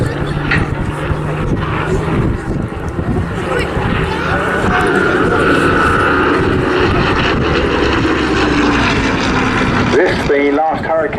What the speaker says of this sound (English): The Hurricane was the first British monoplane 8-gun fighter